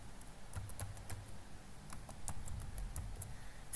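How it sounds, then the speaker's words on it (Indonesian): Cisco commands typed on a computer keyboard, a quick uneven run of soft key clicks, fairly quiet and close, with no voice over them. "Kemudian di sini kita ketik"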